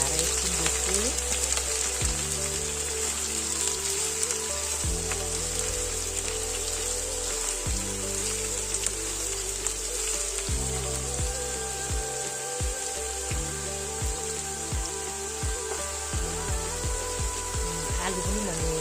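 Finely chopped bottle gourd sizzles in a hot pan as it is stirred, a steady, dense frying hiss that runs throughout with a faint tonal background and no speech.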